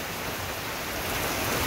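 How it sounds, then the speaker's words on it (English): Typical Florida rain pours down steadily outdoors on a hot day, a loud, dense, even hiss that swells slightly toward the end, with no talking. "Your typical Florida rain."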